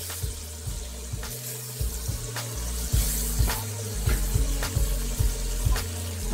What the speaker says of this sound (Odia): ତେଲ ଗରମ ହୋଇଗଲେ ଏବେ କୋଉ ମାଛ ଗୁଡ଼ିକୁ ଦେଇଦେବା ଗରମ ତେଲରେ